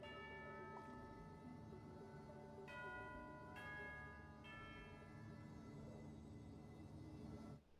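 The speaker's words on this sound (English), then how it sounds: "Sound of the bell." Bells ringing in the video game Genshin Impact, several distinct resonant bell strikes whose tones ring out and slowly fade over a low steady ambient background, fairly quiet overall.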